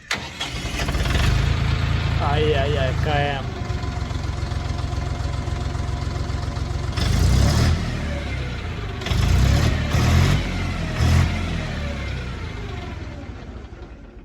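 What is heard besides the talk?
Dongfeng tractor engine starting and idling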